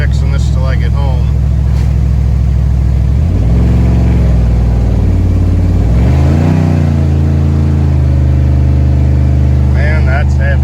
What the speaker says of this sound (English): that one exhaust pipe is completely broke off